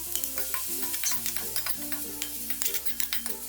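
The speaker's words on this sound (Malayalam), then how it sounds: "ഈ വേവിച്ച് വെച്ചിരിക്കുന്ന റൈസ് ഇതിലിട്ട് ഇളക്കി കൊടുക്കാം" Cooked rice is stirred into vegetable fried rice in a hot pan over a high flame, with brisk scraping and tossing over a lively sizzle and faint background music.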